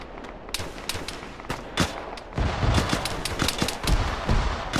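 Sustained gunfire in the military video game Arma during a ShackTac squad firefight on a hill, with sharp shots cracking irregularly over a dense rumble, growing heavier and louder partway through.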